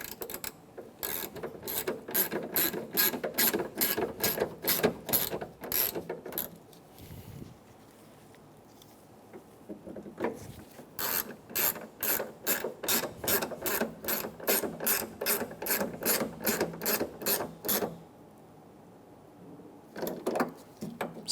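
Rapid ratchet clicking in several long runs as screws are snugged down on a 2014-2018 Chevrolet Silverado 1500 park assist camera, close and crisp, separated by short pauses with no talking.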